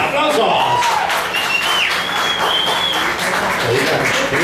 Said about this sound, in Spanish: ¡Aplausos para estos que están aquí a la izquierda!